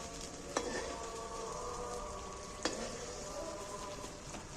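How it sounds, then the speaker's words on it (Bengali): A whole egg fries in very hot oil with a steady, bright sizzle that holds for several seconds, marked by two sharp clicks of a utensil against the pan. "তেলটাও খুব গরম হয়ে গেছে আমি এর মধ্যে গোটা ডিমটা দিয়ে দিচ্ছি"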